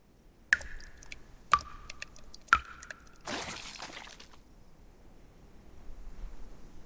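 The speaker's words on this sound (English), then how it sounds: "Sounds like dripping water." Three evenly spaced water drips with a bright, ringing plink in the video game Reverse: 1999, each about a second apart, then a soft splashy rustle fading into quiet ambience.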